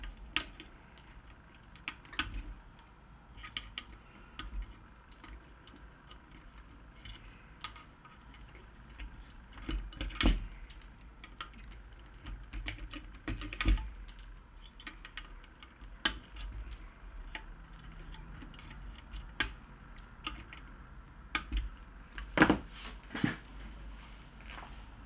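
Cutters trimming capacitor leads on a TV circuit board during repair: a few sharp, isolated snips spaced seconds apart over a quiet, faintly humming room.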